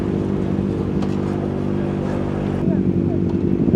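Kawasaki ZX4RR motorcycle engine idling and rumbling nearby, a steady low drone that grows slightly louder near the end, with someone talking over it.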